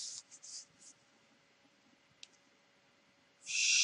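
Marker or chalk strokes on a board while sketching a parabola for a conic sections lesson: a few short scratchy squeaks near the start, one faint click midway, then a louder sustained stroke at the end, with no talking.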